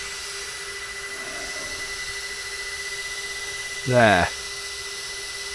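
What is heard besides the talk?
power tool trimming an X-Maxx RC car gearbox cover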